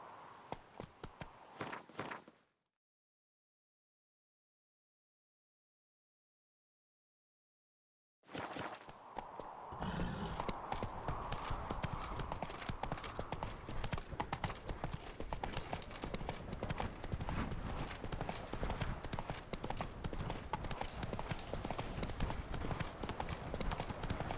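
Roach, the horse from The Witcher 3, moves in rhythmic hoofbeat clip-clops that break off for a stretch of silence and then return louder and faster as a steady gallop, with no speech over them.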